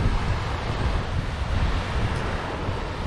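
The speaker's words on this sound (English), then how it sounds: "enjoy the waves crashing forever" Waves wash onto a beach near Seward, Alaska, in a continuous broad roar of surf mixed with wind buffeting the microphone, steady and fairly loud with no distinct breaks.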